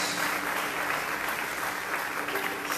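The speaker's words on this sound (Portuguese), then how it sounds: "Você pode aplaudi-lo nessa noite." A church congregation applauding during an evening worship service, a dense sustained wash of clapping at even loudness through the whole short stretch.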